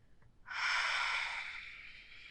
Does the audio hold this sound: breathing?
yes